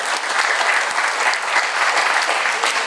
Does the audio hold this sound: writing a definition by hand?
no